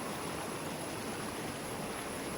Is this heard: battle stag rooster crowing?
no